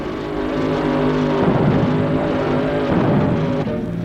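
Modified tractor-pull engine, the kind adapted from airplanes or Army tanks, roaring continuously at a county fair pull, loud and steady with a deep rumble throughout and no talk.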